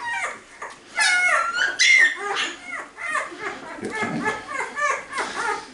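High, thin whimpers and squeaks of one-week-old newborn puppies come in repeated bursts, close by, with people talking softly over them.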